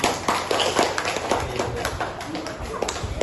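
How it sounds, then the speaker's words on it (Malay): Classroom pupils clap their hands together for everyone, a scattered, uneven patter of claps with some thumps and murmured voices mixed in, moderately close and lasting the whole moment. "tepuk tangan buat semua"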